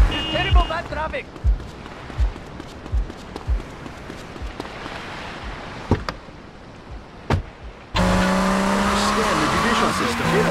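Traffic in the GTA Vice City video game: a string of thumps and short bumps from passing cars over steady engine noise, followed by a louder stretch of vehicle sound with talk over it.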